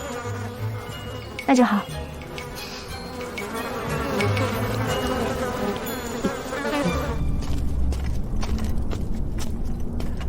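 Flies buzz in a steady, close drone that carries throughout, with a brief spoken line over it.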